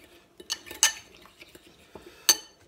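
A spoon stirs soy sauce into a sauce in a dish, giving a few sharp clinks of metal against the bowl between quieter scraping taps, close and clear with no talk.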